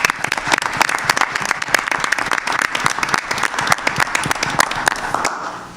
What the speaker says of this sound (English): We'd like to have them stand up and get some applause